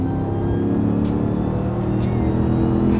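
Stock RAM TRX truck with its supercharger whine, a steady loud engine drone with a high thin whine on top, idling or revving gently and held level throughout.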